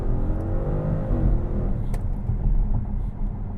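A 560-horsepower Audi RS7 accelerates with a deep, steady engine and exhaust rumble, the revs rising early and then holding a loud, throaty drone throughout.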